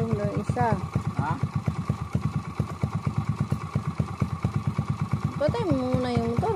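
An MXI 125 motorcycle idles close by on a rural road, a steady rapid thumping putter throughout while people talk over it.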